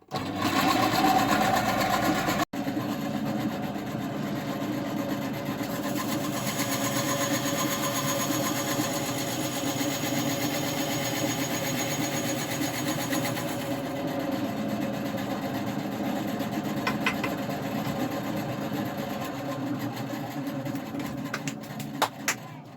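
A bandsaw runs steadily while cutting out a roll cage for a Tamiya Mad Bull RC car, giving a continuous motor drone and cutting whir for over twenty seconds, with a brief dip near the start.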